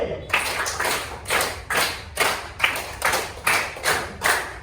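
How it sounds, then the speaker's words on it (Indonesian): A class of children clapping hands in a rhythmic pattern, nine sharp unison claps in a steady, evenly spaced beat, close and distinct over a faint room murmur. "Tepuk tangan 5 2 kali."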